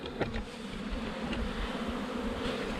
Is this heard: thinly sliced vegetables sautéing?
no